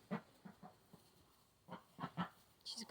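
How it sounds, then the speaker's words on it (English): A pet duck gives a series of short, quiet honking calls with brief gaps, a few more bunched toward the end, each call soft and near. "She's a good duck."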